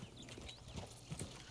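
Horse hooves clip-clop in Red Dead Redemption 2, a few quick hoofbeats thudding over a constant game ambience bed, fairly quiet and with no voices.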